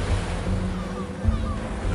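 Wind and heavy ocean waves surge around a ship crossing the stormy Southern Ocean, a continuous broadband roar with low rumbling swells, no voices.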